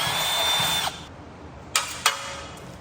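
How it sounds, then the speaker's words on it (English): A drill-driven wire wheel scrubs old gasket off a steel transmission pan from a Jeep WJ 42RE, heard as a sustained rough whirring grind followed by two short, sharp bursts of grinding. "we're gonna hit it with the wire wheel to take off the rest of the gasket"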